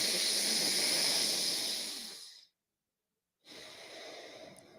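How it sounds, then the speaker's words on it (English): Deep breaths drawn in and out through the nose during a guided breathwork session for mountain athletes, a loud, close, airy rush lasting over two seconds, then a pause of silence before the next breath begins. "Take 2 more deep breaths with me."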